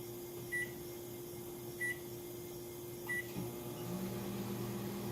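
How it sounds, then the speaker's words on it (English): A microwave oven heating frozen butter beeps three times at a steady pace over its constant running hum, followed by a soft clunk and a shift in the drone as it stops. "This is 90 seconds in the microwave."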